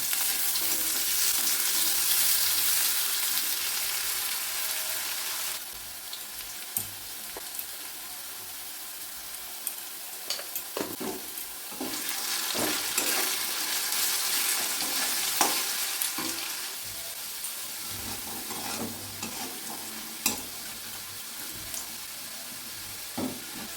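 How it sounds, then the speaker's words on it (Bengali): Potatoes frying in hot oil in a pan, a continuous sizzle broken by repeated scraping and clacking of a stirring spoon, close and fairly loud. "তাই আলু কটা আমি ভালো করে ভেজে নেব"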